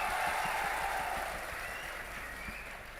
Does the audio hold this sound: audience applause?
yes